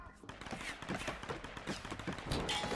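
A quick series of gunshots pops in Tomb Raider (2013) combat, several sharp shots in close succession over a noisy game background, with a voice talking across it.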